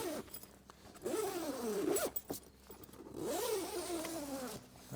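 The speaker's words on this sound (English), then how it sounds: "if you want to open up the canvas, then we're just going to unzip this all the way around" A zipper is pulled along the canvas of a VW campervan poptop in two long, rising-and-falling strokes with a short pause between, close and fairly quiet, with no talking.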